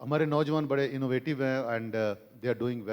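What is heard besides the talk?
No everyday noise stands out behind the speech.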